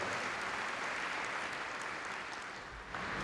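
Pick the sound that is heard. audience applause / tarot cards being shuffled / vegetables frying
audience applause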